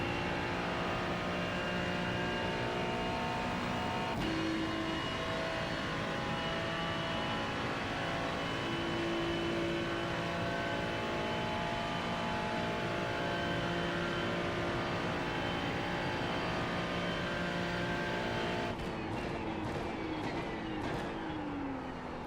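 A race car engine in iRacing hums loudly and continuously for over twenty seconds, its pitch shifting with throttle changes and a few brief gear-shift breaks near the start and end.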